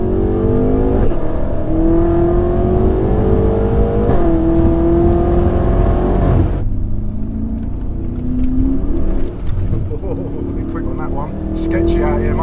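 A 1000-horsepower BMW M5 engine drones loudly at night on a cold road, a steady close roar with rising revs that break and climb again, under constant talk from people in the car.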